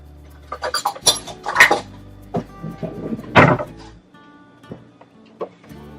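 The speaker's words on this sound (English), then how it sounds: "in the same pan, now I'm going to add chopped onions and ginger garlic paste" Chopped onions and ginger garlic paste go into a pan, bringing scattered clinks and scrapes of cookware and utensils, a few sharp knocks and then a brief quieter stretch.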